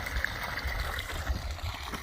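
A steady stream of spring water pours from a pipe beside the Appalachian Trail, a constant close gurgling rush with no talking.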